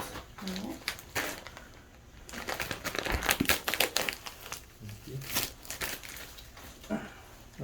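Plastic cling wrap crinkles and crackles in bursts while a foot is bandaged after soft tissue mass removal and hammertoe correction surgery, with quiet talk from the surgical team in between.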